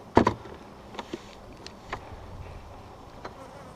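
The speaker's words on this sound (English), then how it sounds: "I have very gentle, cooperative bees." Honey bees at an open hive, inspected without smoke, give a faint steady background hum broken by a few sharp close buzzes as individual bees fly past near the start and at intervals throughout.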